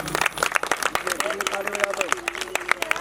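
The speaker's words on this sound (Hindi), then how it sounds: "एक बार ताली बजाओ अपनी बेटियों के लिए।" A crowd at an outdoor Hindu devotional katha gathering on a Delhi market road claps for their daughters, with quick uneven bursts of handclaps under a sung or chanted voice.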